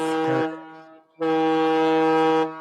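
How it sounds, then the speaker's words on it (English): Foghorn blasting in a harbor, two long deep steady blasts, a short one followed after a brief gap by a longer one, loud and sustained, with no talk. "I was really hoping for a fucking foghorn, man."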